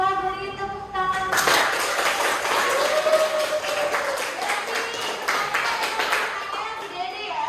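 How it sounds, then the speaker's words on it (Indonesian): A class of students claps together after a group presentation, starting sharply and holding a dense, energetic rhythm before tapering off, with children's voices mixed in. "kita beri tepuk tangan"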